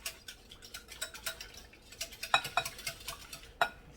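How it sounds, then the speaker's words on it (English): Milk whisked into eggs in a bowl for banana pudding: quick, irregular clinking and scraping strokes, close and fairly soft, with a few sharper taps against the bowl. "Now, to these eggs, we're going to add a 1/2 cup of milk. Let's go ahead and whisk it in."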